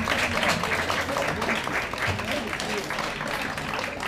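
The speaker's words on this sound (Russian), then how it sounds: "Давайте проводим аплодисментами кандидатку по номеру 5" Audience applause for pageant contestant number 5, sustained clapping from a crowd that stays dense and fairly loud throughout.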